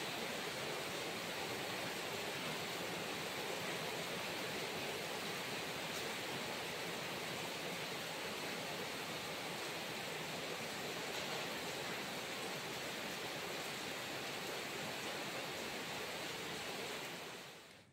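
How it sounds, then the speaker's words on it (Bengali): Heavy monsoon-style rain pours outside a balcony window as a dense, unbroken hiss that holds at an even level throughout, with no voices. "বাইরে প্রচণ্ড বৃষ্টি পড়ছে মুষলধারে"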